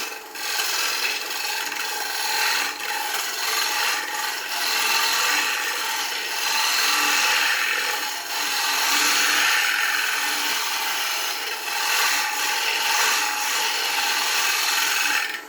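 A woodturning gouge takes a light cut on a spinning punky wood bowl, giving a continuous rough scraping hiss with gentle swells, steady and close throughout with no talk.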